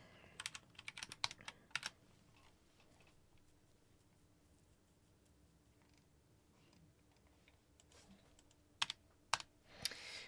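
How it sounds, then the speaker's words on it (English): Quiet typing on a computer keyboard comes in two short flurries of clicks, one near the start and one near the end, with a faint room hush in between. "I'm just going to type Versal."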